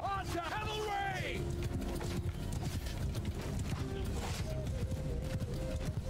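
Horses thunder in a Mount & Blade II Bannerlord battle from the Eagle Rising Roman mod, with rapid hoofbeats, a whinny near the start and battle noise around them, while someone shouts orders over it all.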